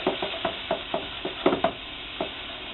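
Turkey pieces with thyme and rosemary cook in a pan, giving off soft, irregular sizzles and pops along with scraping and stirring clicks nearby.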